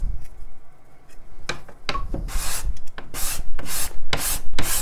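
A blade scrapes across Royal Blackwood or African ebony, a luthier's tonewood, in repeated close rasping strokes that grow longer and louder, alone without talk.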